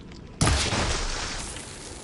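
A sudden loud explosion blows apart tunnel debris in the video game Horizon Forbidden West, triggered by fire ammo hitting blaze barrels, with a sharp blast followed by a long rumbling, crackling tail that slowly fades.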